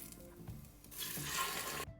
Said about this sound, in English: Once your oil gets hot, then we will sear the round steaks.